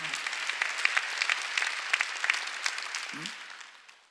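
A church congregation at a Sunday worship service claps steadily, a full sustained round of applause that fades out toward the end, with a short voice fragment near the close.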